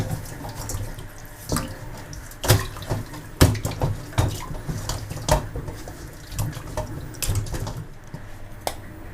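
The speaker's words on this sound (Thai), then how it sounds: "เกลือนี่แหละค่ะล้างน้ำเปล่าก่อนนะคะ เร้จะล้างด้วยเกลือ คุณตักก็จะล้างด้วยน้ำเกลือนะคะ" Pork rinsed first in plain water, then in salt water, in a kitchen sink: running tap water splashes steadily with repeated sharper sloshes and clatters as the meat is handled, close and moderately loud, with no talking.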